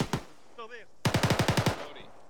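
Automatic rifle fire in a squad training video game: a couple of single sharp shots, then a rapid burst of about seven loud, close cracks in quick even succession.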